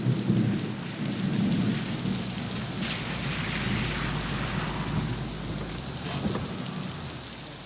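Desert thunderstorm with steady heavy rain hissing on surfaces and low rolling thunder rumbling throughout, close and loud, with no voices.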